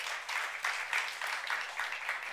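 A church congregation at a youth worship service claps together, a fairly soft, steady patter of many hands with slight pulsing swells over a couple of seconds, no voices on top.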